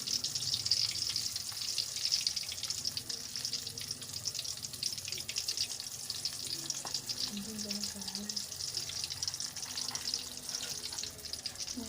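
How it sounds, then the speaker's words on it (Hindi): Potato slices frying in very hot ghee while being stirred give a continuous, loud hissing sizzle with occasional faint scrapes and clinks of the utensil throughout. "घी बहुत गर्म हो गया है, इसको हम हिलाएंगे ताकि वो आपस में जुड़ ना जाए"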